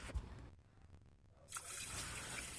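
Water is poured into a cooker with moong dal and turmeric, a few faint drips and trickles and then a steady splashing pour that runs to the end, quiet and close.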